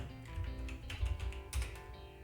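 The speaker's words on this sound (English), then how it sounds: "type in your password" A password being typed on a computer keyboard, a quiet, irregular run of soft key clicks heard close up. No one talks.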